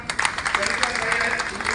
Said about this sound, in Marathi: पुन्हा एकदा भरत दादांसाठी टाळ्या वाजवा